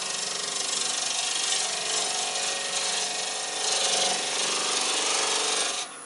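A turning tool slices into the corner of a wooden hollow form spinning on a lathe, giving a steady, close rasping cut that runs continuously with small surges and stops abruptly near the end.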